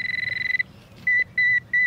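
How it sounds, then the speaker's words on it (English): Nokta Accupoint pinpointer resting on the ground gives a rapid string of bright electronic beeps, then switches to three longer, steady tones with short gaps between them, close and clear. "as I put my pinpointer down here on the ground. You hear that sound?"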